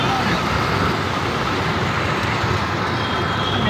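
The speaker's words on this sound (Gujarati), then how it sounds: "અમદાવાદની ટ્રાફિક છે" Dense city traffic in Ahmedabad fills the air with a constant, loud roar of cars, buses and trucks, steady and close with no breaks.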